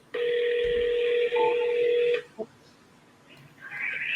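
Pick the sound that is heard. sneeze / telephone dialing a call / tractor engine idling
telephone dialing a call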